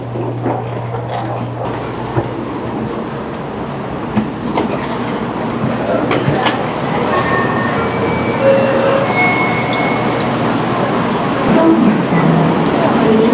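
A Whoosh high-speed train pulls into Kaohsiung station at the end of its run, giving a steady rumbling roar with faint squeals and clicks. Nearby voices and platform bustle sit beneath it.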